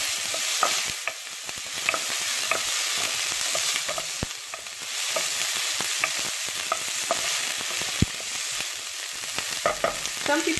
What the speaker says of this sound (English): Saute it nicely so that it gets translucent.